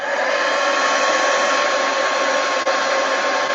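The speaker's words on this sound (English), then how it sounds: "Oh, let's dry it, and then I'll heat it again." A hair dryer blowing steadily to dry paint on an artwork, loud and close, running continuously with one brief dip partway through and no talking.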